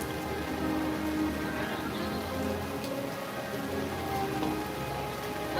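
Steady rain falls at the EPCOT theme park during an outdoor crowd scene, a dense, constant hiss of drops hitting surfaces with a low rumble beneath and faint background voices.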